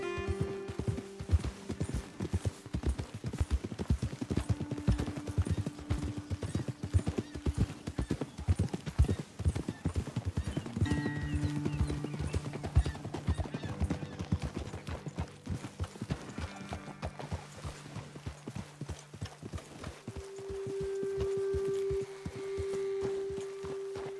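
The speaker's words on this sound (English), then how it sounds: "Okay, let's dismount here. Best leave the horses back a bit." Horses walking on a trail in the video game Red Dead Redemption 2, a steady stream of close clip-clop hoofbeats alongside sustained game-music tones and an occasional soft whinny.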